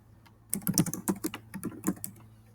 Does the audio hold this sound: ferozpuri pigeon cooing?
no